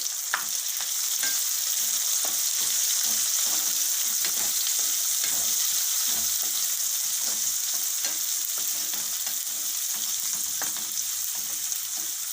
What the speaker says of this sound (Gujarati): હવે આપણે આ ડુંગળી નાખી દઈશું